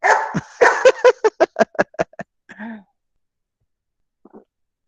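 A dog barks in a rapid series of sharp, close yaps, about a dozen in quick rhythm, then trails off with a short whine and a faint final sound.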